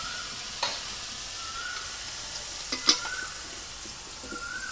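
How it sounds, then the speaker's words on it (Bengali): Turmeric and spices fry in a pan for a chicken or mutton curry cooked over a wood fire, giving a soft, steady sizzle with a couple of faint clinks and stirring taps. "এটা দিলাম হলুদ, তারপরে হলুদটা একটু কষিয়ে তারপরে দেবো জিরে গুঁড়ো"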